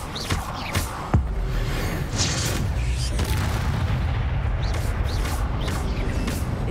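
An Incendio fire spell is cast in the Hogwarts Legacy video game, setting off a loud, close blast that settles into a sustained roaring rumble of flame with a few sharp hits and whooshes on top.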